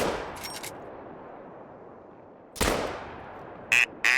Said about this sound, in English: That third shot definitely didn't hit.